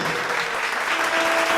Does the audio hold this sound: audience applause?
yes